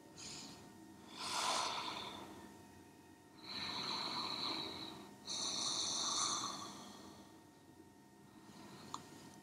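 During a dynamic yoga session, slow breaths are drawn in and out through the nose in three long, soft waves separated by quiet pauses, close and gentle.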